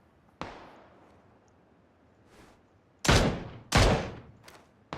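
Gunfire in the PUBG video game: a single distant shot rings out, then after a pause two loud, close gunshots with echoing tails crack in quick succession, with quiet ambience between.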